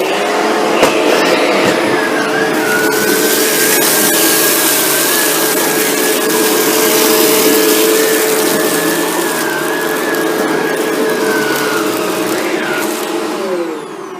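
A Shark Rotator NV752 upright vacuum cleaner runs steadily while cleaning along a floor near baseboards, a loud continuous motor roar with a sustained high whine that holds for the whole stretch before easing slightly at the end.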